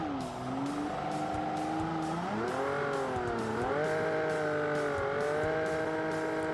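A sports car spinning out in the driving game Automation, tires squealing in long wavering tones over a steady engine drone, loud and close with no talk.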